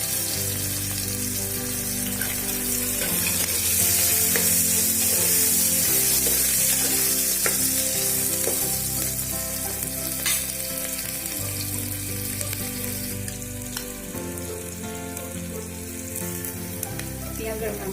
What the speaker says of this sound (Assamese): এতিয়া মই কাটি থোৱা পিঁয়াজখিনি দিছোঁ।